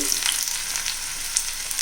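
Onion, ginger and garlic sizzle steadily in hot oil after mustard seeds have popped, a dense, even crackle close by with no voices.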